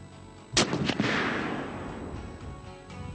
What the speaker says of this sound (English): the Barrett Caliber 50 anti-material rifle is the weapon of choice